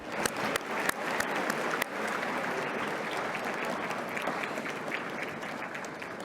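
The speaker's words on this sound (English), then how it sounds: "How about a big round of applause for our guests?" Audience applause for the guests at an AI in secondary schools summit at BC High, a few sharp early claps swelling into steady, sustained clapping from the crowd.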